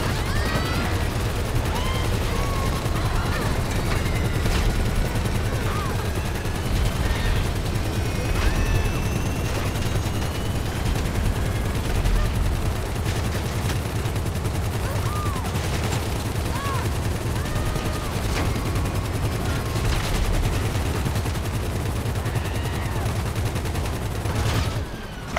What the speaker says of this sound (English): As soon as I started shooting this guy, they started shooting backwards for their machine guns.